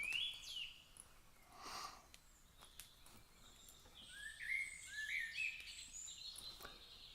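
Small birds chirping and tweeting outdoors, a few scattered high calls at moderate distance over faint background noise.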